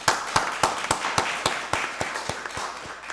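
Audience at a county board of commissioners meeting applauds a director, a brief burst of steady, evenly spaced claps across the room, moderately loud and fading slightly.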